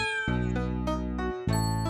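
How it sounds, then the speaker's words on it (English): Cartoon cats meow in a short sequence of bright, tonal, musical meows, several overlapping calls close and clear with a chime-like ring and no talking. "Mary, looks like your cats wanted to ride in my fire engine."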